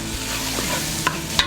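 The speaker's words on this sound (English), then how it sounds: "adding that while you're sauteing is actually kind of a good thing" Spice blend of smoked paprika, pepper flakes, cumin and chili powder stirred into a sautéing pan, with a steady soft sizzle and a couple of brief scraping stirs near the end.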